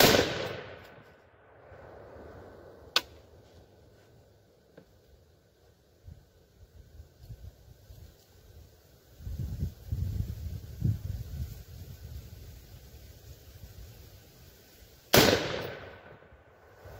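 A 6.5 Creedmoor AR10 rifle with an 18-inch fluted Bear Creek Arsenal BC10 upper fires Winchester ammunition outdoors, two sharp loud cracks spaced far apart with wind rumble between them.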